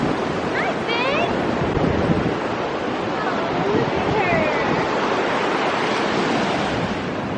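Ocean waves break on a beach in a steady, loud roar of surf, mixed with wind buffeting the microphone and a few faint voices in the background.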